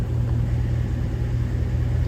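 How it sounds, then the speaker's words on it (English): A 2018 Dodge Ram 1500 Rebel pickup engine running just after starting, a steady close low rumble with an even pulsing idle and no talk. "I'm just going to turn the key on, start the truck"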